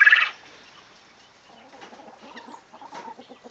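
Backyard hens make soft, scattered clucks at close range after a brief louder squawk at the start, with no talking over them.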